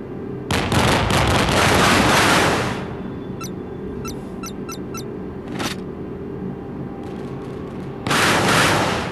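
Warship artillery fires in the Modern Warships naval combat game aboard a Ticonderoga-class cruiser, with loud booming blasts at the start and end, a sharp shot in the middle and scattered clicks between.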